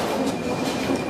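A train runs on a museum line with a steady rumbling rattle and clattering wheel noise, loud and close, filling the brief moment without any voices.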